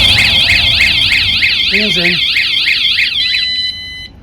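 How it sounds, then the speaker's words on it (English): A loud van alarm wails in rapid rising and falling sweeps, with a brief voice underneath, before it changes tone and fades out. "brings in the second alarm, which will run for 30 seconds before resetting"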